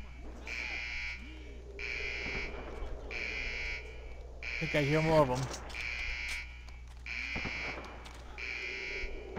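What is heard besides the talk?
alarm going off in the video game Iron Storm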